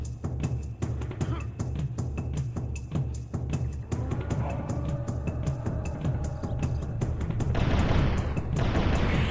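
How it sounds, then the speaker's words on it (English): Plasma rifle firing in the video game Turok during a jungle level: a rapid, steady series of loud, close shots repeating through most of the stretch, with a denser, louder burst of noise near the end. "That's our new weapon, plasma rifle, which we acquired from the Long Hunter."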